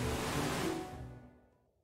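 A steady rushing waterfall in the video game 8Doors, broad and loud at first, then fading away into quiet over the final second.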